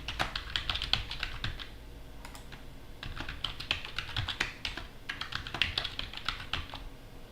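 A computer keyboard being typed on while a password is entered, with a steady run of close, crisp key clicks in quick bursts and short pauses, and no voices.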